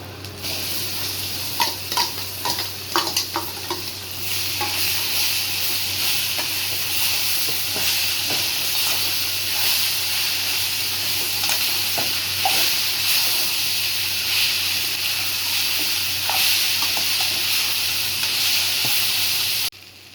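Mango pieces fry with fenugreek powder and turmeric in a pan for mango rice, a loud, continuous sizzle with scattered clicks and scrapes of stirring, heaviest early, before cutting off at the end.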